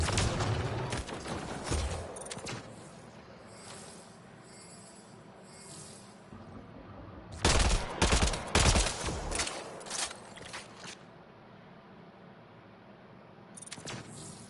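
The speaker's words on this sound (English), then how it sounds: "I'm getting shot in the back" In Mass Effect Andromeda, gunfire aimed at the player comes in rapid bursts of overlapping shots, loud and clustered at the start, middle and end, with quieter stretches of game ambience between.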